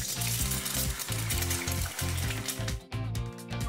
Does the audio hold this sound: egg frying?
yes